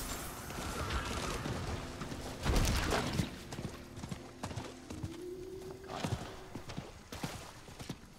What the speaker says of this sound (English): Oh, just get on the horse.